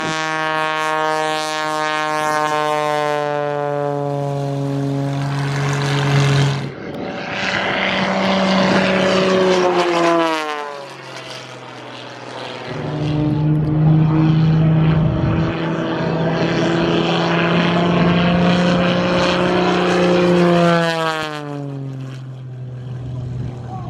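Propeller airplane taking off from the runway at Oshkosh during EAA AirVenture, a loud steady engine drone with rising and falling pitch sweeps as it passes close by, alone without voices.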